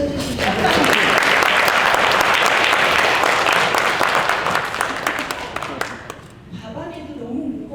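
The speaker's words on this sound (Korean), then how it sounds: "박수 좀 쳐주시죠." Loud, dense audience applause at a contemporary art museum talk, a full burst of clapping from a large crowd that swells, holds, then fades into a few scattered claps near the close.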